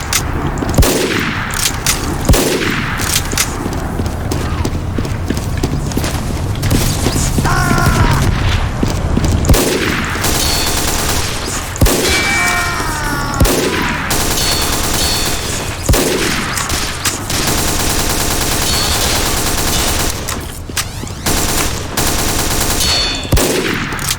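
Rapid gunfire in a multiplayer shooter video game, sharp loud shots in repeated bursts with mechanical clicks between them, and voices talking over the action at times.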